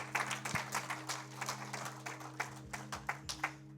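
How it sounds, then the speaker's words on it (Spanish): Congregation at a Spanish-language evangelical church service applauds, a quiet, sustained patter of many hands clapping at some distance over a low steady hum, with no voices on top. "Dale un aplauso a Jesús."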